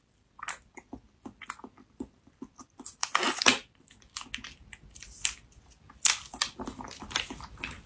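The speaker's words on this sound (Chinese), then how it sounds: "尽量把它嚼碎一点啊！" Crunchy, close-up chewing and biting of food in an eating session, with irregular bursts of crisp crunches and softer squishy mastication, no talking.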